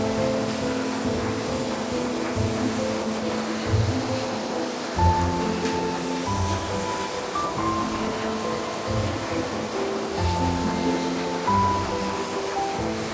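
A waterfall on the Ingleton Waterfall Trail sends out a steady, full rushing roar of falling water that stays constant throughout, with no voices.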